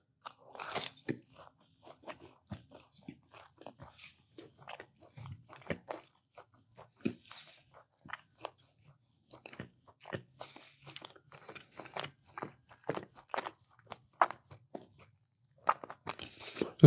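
Someone eats crunchy Papa John's Oreo Papa Bites, producing close, loud crunches and bites in an irregular rhythm, with no talking.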